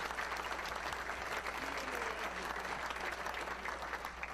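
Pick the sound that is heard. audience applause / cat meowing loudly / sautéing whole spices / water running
audience applause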